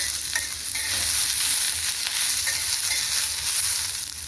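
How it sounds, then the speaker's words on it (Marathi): Green chillies roasting in a hot pan for Maharashtrian thecha, a continuous close hiss and crackle with soft stirring throughout. "त्यासाठी मिरच्या भाजून घेते। मिरच्या छान भाजून घ्यायच्या आहे।"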